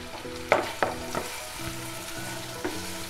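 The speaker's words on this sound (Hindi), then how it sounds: "मैं इसके ऊपर से अनियन ऐड करूँगी और हमारा जो गैस का फ्लेम है वो हाई पे ही रहेगा" Onions and ginger paste frying on a high gas flame for veg chowmein, a loud steady sizzle broken by a few sharp stirring clanks against the pan.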